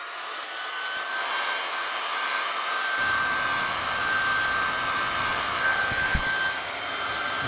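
A heat gun set to maximum, used outdoors on a motorhome rot repair, blows a loud, continuous, hissing roar of airflow with a faint steady whine, close by and unbroken, with no talk.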